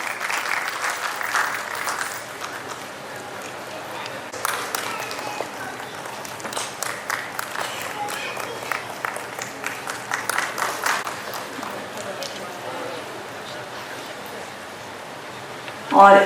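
An audience at a ceremony claps in sustained applause to welcome a guest onto the stage, dense and even, swelling in bursts before a sharp, louder clap at the close.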